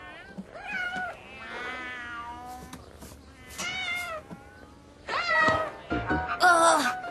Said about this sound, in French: Mais pourquoi elle a autant de chats?